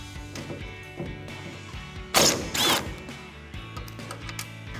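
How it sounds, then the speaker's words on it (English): A Phillips head bit on a powered driver removes the taillight screws on a 2007-2013 Chevy Silverado 1500 pickup, producing two short, close whirring bursts in quick succession over faint background noise. "with a Phillips head screwdriver, or we're just using this Phillips head bit just to make it a little bit faster, go ahead and remove both of these bolts"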